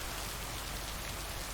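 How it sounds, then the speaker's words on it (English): Steady rain in the video game Lake, a soft even hiss of falling drops on surfaces with no distinct individual hits, quiet and continuous. "Oh, it's raining today."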